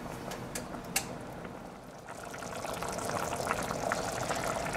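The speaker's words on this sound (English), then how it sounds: "This rustic sauce has been reducing for about 15 minutes." Rustic heirloom tomato and herb pasta sauce simmering in a pan, soft bubbling and popping that builds into a steady quiet sizzle, with a few faint clicks near the start.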